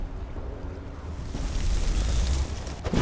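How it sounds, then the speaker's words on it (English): Explosion spell blasting in the video game Skyrim, a loud rumbling boom that swells into a sustained roar with low, heavy energy, heard alone without talk. "Huge explosion."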